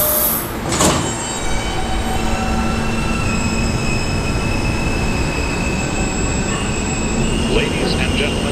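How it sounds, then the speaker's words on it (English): A New York subway E train sits in a station, its loud rumble and squealing wheels filling the platform as a short burst rings out early and a recorded announcement voice speaks over the din. "This is a Westwoodstock bound E train."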